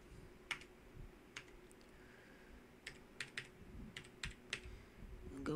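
Sparse keystrokes tap on a computer keyboard while settings are entered on a pfSense firewall, a dozen or so clicks in uneven groups, quiet and close against a faint room hum.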